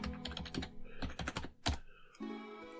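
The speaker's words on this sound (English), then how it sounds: "So I'm going to type that in." Password being typed on a desktop computer keyboard: quick bursts of clicking keystrokes in uneven clusters, close and fairly quiet, with a steady low hum underneath.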